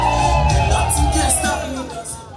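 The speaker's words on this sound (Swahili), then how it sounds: "Nataka nisikie shangwe kabisa za wazazi." Parents at a daycare graduation ceremony at Shalom Temple cheer and ululate loudly together, a dense crowd roar with high trilling whoops rising over it, fading slightly toward the end.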